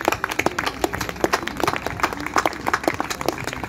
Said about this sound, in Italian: facciamogli un applauso comunque